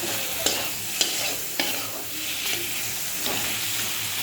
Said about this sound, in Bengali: এবার আস্তে আস্তে কষানো হয়।